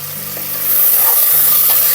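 Onions frying in a pan for goat head curry, a loud, steady sizzle that swells in after a quieter start, with faint scraping of stirring, and no talk.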